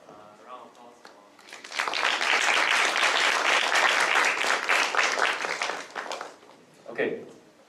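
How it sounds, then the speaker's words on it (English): A room full of people at a student union council meeting applauds steadily for several seconds, the clapping swelling then fading, with brief talk before and after. "Round of applause for."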